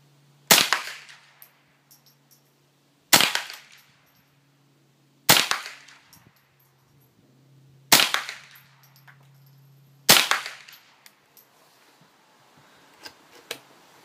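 Five sharp, loud gunshots from a JW-14 rifle, fired at a steady spacing of about two and a half seconds outdoors at dusk, each crack followed by a short echoing tail and a low hum between shots.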